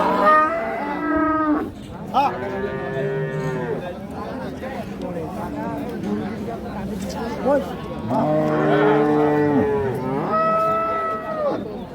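A Holstein Friesian cow moos loudly several times nearby at a cattle market, long drawn-out lowing calls, with people talking in the background.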